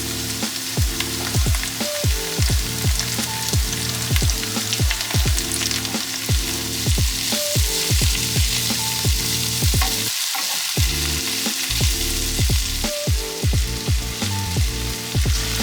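Potatoes, orange, red and yellow peppers and red cabbage fry in a pan, a loud steady sizzle punctuated by regular rhythmic scraping strokes of stirring, with one brief pause midway.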